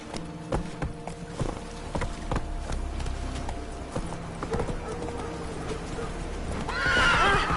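Hooves clip-clop in a steady galloping rhythm from a horse in The Witcher 3 video game, with a loud, shrill neigh rising near the end; brief human calls appear faintly alongside.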